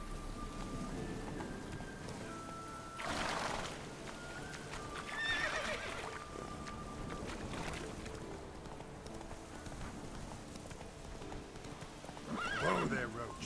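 Roach the horse's hooves clip-clop at a gallop in The Witcher 3, steady and fairly close, with a few whinnies and faint rain-like ambience in the game world, a voice speaking over parts of it.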